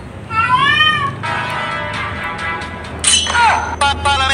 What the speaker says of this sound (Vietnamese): Con mèo biết hello mọi người.